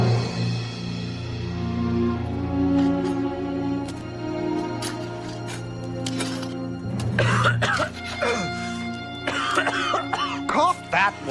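Coughing and throat clearing from a weak, starving soldier in a Revolutionary War army camp, several harsh bursts late in the clip over a steady background of music.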